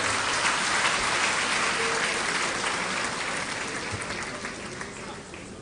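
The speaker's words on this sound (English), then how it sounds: "Please applaud His Royal Majesty, King Mswati III" A large audience at KNUST's 58th congregation ceremony applauds Eswatini's King Mswati III, a dense, steady wash of many hands clapping that slowly fades in level.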